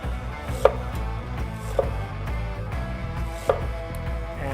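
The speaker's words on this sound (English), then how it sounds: "Then we have our ginger. So we just need to slice them up thinly." Knife slicing ginger thinly on a cutting board, a few evenly spaced, distinct chopping knocks against the board, close and clear over a quiet kitchen background.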